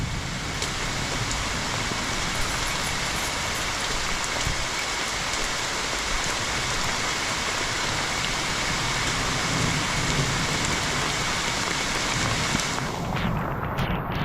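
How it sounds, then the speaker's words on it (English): Heavy rain pours steadily during a descent on a mountain section of the Appalachian Trail in Pennsylvania, a dense, loud hiss that stays constant throughout with no talking. "Alright, so this is what the rain's like"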